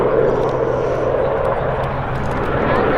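Westland-built Sea King helicopter, originally a Sikorsky design first flown in 1959, heard at an air festival as a steady, loud rotor and engine roar filling the whole stretch with faint crowd noise beneath.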